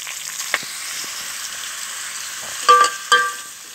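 Bottle gourd pieces fry with onions and green chillies in a pan, giving a soft, even sizzle with a few louder spattering bursts near the end, and no one speaks.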